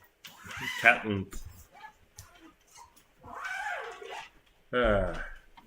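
A cat meows several times at close range, drawn-out and wavering calls spread across the moment, with people's voices in the room around them.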